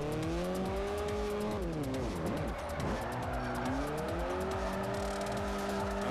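A Chevy Spark drifting in Forza Horizon 4, its engine droning loud and continuous while the tires squeal through the slide, the pitch dipping and rising as the car changes direction mid-drift.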